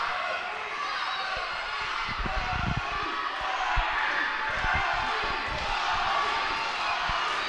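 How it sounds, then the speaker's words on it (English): Wrestling arena crowd chanting for wrestler David Ali, a dense continuous roar of voices with rhythmic low thumps and stomps underneath, steady and loud throughout. "you can hear the crowd here chanting for David Ali"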